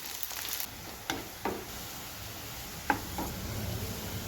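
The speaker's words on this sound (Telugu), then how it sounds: "ఉల్లిపాయ ముక్కలు వేసుకోవాలి ఎర్రగా వేయించుకోవాలి" Sliced onions frying in hot oil for chicken biryani, giving a steady moderate hiss with a few brief clacks and pops from stirring, heard close and without any voices.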